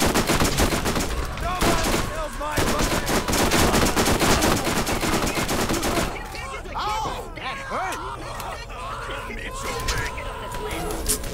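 Video game gunfire from downloadable content: dense rapid shots crackle through the first six seconds, then thin out to scattered blasts and in-game voices, with a player talking over the action.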